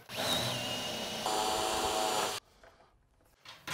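A power drill bores holes into a wooden cabinet for the legs, with a steady, loud whirring drone for a couple of seconds that stops abruptly, followed by quieter handling noise and a brief restart.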